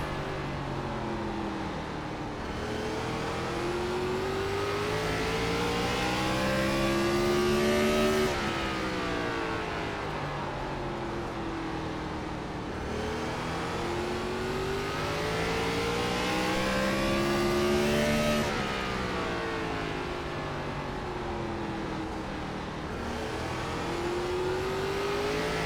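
A Gen 4 Cup race car engine at Martinsville in iRacing roars steadily, rising and falling in pitch in a repeating cycle as it accelerates down straights and lifts into corners, loud and continuous throughout.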